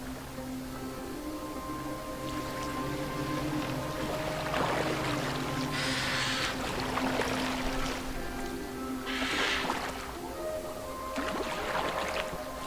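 A boat glides across water in Assassin's Creed Valhalla, with a steady wash of water and intermittent splashing bursts over faint tonal background sounds. No speech is heard.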